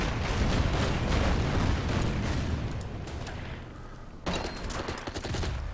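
Gunfire from military units in the WWII strategy game Order of Battle, set on Bougainville, heard as a dense, continuous barrage of loud booms and rattling shots, briefly easing and then surging again.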